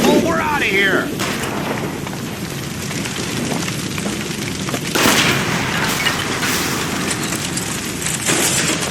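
In L.A. Noire, a shot gas line sets off a loud, rumbling explosion, with a sharp burst near the start and another swell around midway, over dense noise and excited talk.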